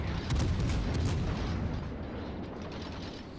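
Secondary guns on a World of Warships battleship fire high-explosive shells in rapid, overlapping booms, a dense loud barrage rolling continuously with no talk.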